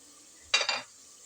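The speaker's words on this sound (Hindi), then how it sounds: "अब हम इसमें कर देंगे पानी का ऐड" Water splashes into a hot pan of spiced potato and eggplant, a short sharp sizzle in two quick bursts that fades after about a third of a second in an otherwise quiet kitchen.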